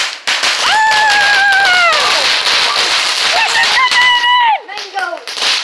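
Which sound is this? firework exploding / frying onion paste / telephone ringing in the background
firework exploding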